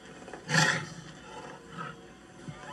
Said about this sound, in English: When a tiger roars, you can hear him for 2 miles away.